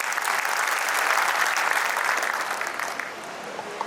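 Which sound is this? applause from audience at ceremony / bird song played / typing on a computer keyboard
applause from audience at ceremony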